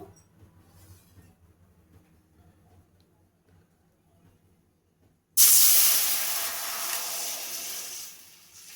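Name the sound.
water poured into a wok for sugar syrup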